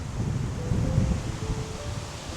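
Breeze blowing through a park on a sunny day, a steady low rushing of wind across the microphone with faint rustling, continuous and moderately loud throughout, with no talking.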